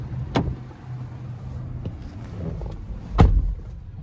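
Entering the driver's seat of a 2019 Infiniti QX60, with a couple of dull thumps and a door closing against a quiet interior hum.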